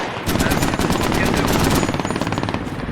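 Machine gun fire in the video game Squad, a loud close burst of rapid, evenly spaced shots running continuously for about three seconds.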